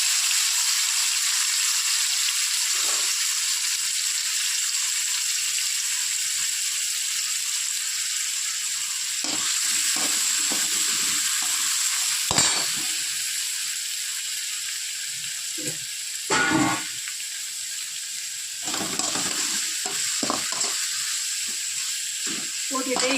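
Citron pickle pieces frying in hot oil, a continuous loud hiss with occasional stirring scrapes and clinks, and someone speaking briefly at times.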